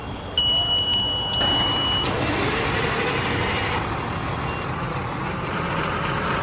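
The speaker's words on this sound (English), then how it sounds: "let's open the doors here and pull one of these trucks out" A truck pulls out of a garage in the EmergeNYC video game, a steady, loud engine-and-rolling rumble with a high, thin whine above it, running continuously without talk.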